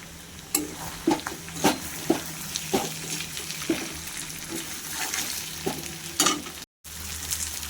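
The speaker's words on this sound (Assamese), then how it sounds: "মাংসখিনি দেখিছেনে ইমান ধুনীয়াকৈ ভাজি হৈছে" Meat sizzles and fries in a hot pan, with repeated scraping stirs tapping through the steady crackle.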